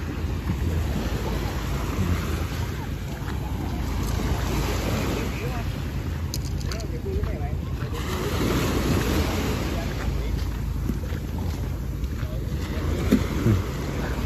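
Ocean waves wash over the pebbles and stones of Cổ Thạch beach at Tuy Phong, Bình Thuận, a steady broadband roar with gusty wind buffeting the microphone, continuous and fairly loud throughout.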